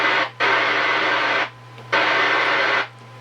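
Albrecht AE7500 CB radio with squelch turned down, hissing static in two loud bursts of about a second each, cutting off sharply between them over a steady low hum.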